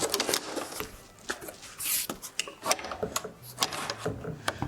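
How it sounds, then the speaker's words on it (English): A-clamps being clipped onto a cheap lighting bounce board on a beauty and commercial shoot, a quiet series of sharp plastic and metal clicks and snaps with rattling handling noise, close by and with no talk. "Use these A clamps. And clip this guy on."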